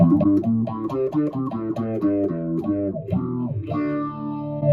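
An electric guitar plays a riff of chords through a phaser in envelope mode, giving an auto-wah, vowel-like filter that swells on each note, ending on a sustained chord.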